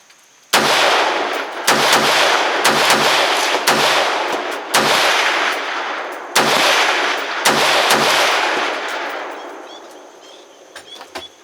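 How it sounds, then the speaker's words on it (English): An AR-15 rifle firing Wolf steel-case ammunition offhand at 55 yards, with about seven loud, sharp gunshots at irregular intervals, each followed by a booming outdoor echo that fades toward the end. "Alright, that was the AR."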